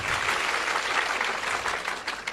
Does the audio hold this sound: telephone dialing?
no